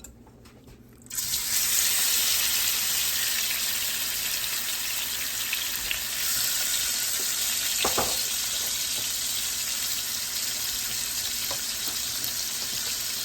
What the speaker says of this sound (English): And I have these on high, y'all. So we're gonna go on and sear these for a minute